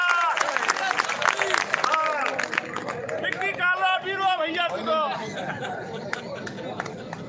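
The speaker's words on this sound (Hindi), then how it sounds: "जोरदार तालियां साथियों विक्की के लिए।" Hearty clapping for Vicky at a Rajasthan employees' strike gathering, a dense burst of applause mixed with crowd chatter and voices that gradually tapers off.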